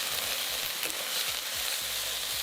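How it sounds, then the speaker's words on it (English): Onion, garlic and ginger sizzle and crackle in a hot wok as they are stir-fried, a steady close hiss with faint scraping, no voices. "Stir fry onion, garlic and ginger until fragrant"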